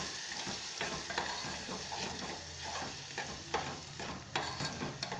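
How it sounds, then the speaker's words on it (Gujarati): Boiled pigeon peas being stirred into a cooking curry in a pan, with a steady close sizzle and soft scraping stirs running throughout, no voices. "આપણે આમાં તુવેરના જે દાણા બાફેલા છે તે એડ કરી દઈશું અને આમને મિક્સ કરી લઈશું"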